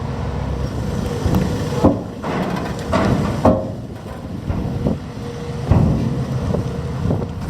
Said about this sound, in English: The little ferry's just leaving Collintrave now.